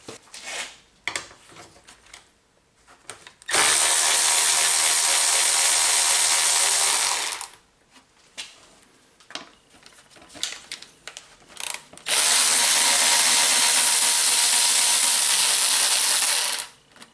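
A power tool with a 5.5 mm socket removes intake hose clamps on a Honda during turbocharger replacement, with two long, loud, close whirring runs separated by quieter clicks and handling noises.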